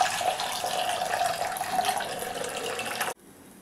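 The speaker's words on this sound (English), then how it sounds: "After 5 minutes, drain the water." Hot water drained off boiled cauliflower florets, a continuous loud splashing pour into a sink for about three seconds that stops abruptly, leaving quiet.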